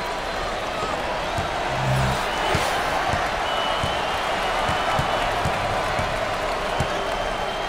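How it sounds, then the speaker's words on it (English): Cheering basketball arena crowd in NCAA Basketball 10, UTEP vs Marquette, a steady loud roar of fans with ball bounces and sneaker thuds beneath a commentator's voice. "This crowd is fired up."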